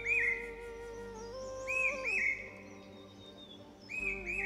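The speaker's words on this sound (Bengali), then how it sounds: "একটা পাখির যে আওয়াজটা শুনতে পাচ্ছেন, আওয়াজটা কি মিষ্টি না?" A bird sings on a cloudy morning at Lamahatta in the Darjeeling hills, repeating bright whistled phrases clearly and fairly near, with short gaps between the calls and no talking.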